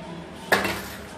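Household dishes and steel utensils clink once in a short bright clatter, close by, over a quiet room hum.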